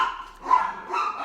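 A couple of pet dogs bark indoors, two close, loud bursts of barking separated by a brief pause.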